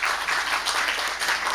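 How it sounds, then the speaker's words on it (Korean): Church congregation applauding in encouragement during a Sunday morning service at Eungam Holiness Church, a steady, dense wash of clapping that fills the space without a break. "격려의 박수 한번 해주시죠."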